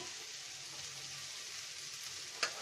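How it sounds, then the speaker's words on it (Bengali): Chopped onion with a pinch of whole cumin frying in a pan gives a soft, steady sizzle that stays even throughout, ending with one brief sharp click. "আস্ত জিরা একটু দিয়ে দিলাম এক চিমটি"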